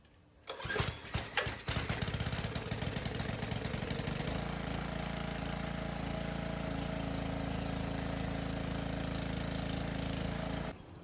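A secondhand pressure washer's small gas engine catches after a few sputtering pulls, then settles into a loud, steady running drone close by, cutting off abruptly at the end.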